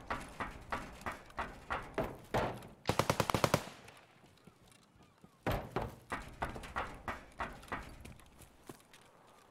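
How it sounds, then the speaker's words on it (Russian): A player in Escape from Tarkov fires on teammates in evenly spaced single shots, then a rapid automatic burst, then steady single shots again, moderately loud and close. "Шо он по своим стреляет?"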